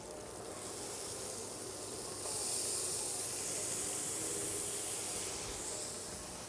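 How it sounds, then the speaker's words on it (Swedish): Chopped onions frying in hot oil in a frying pan for a cheesesteak sandwich give a steady, loud hiss and crackle that swells slightly midway and holds throughout, with no voices. "Först stek lite lök."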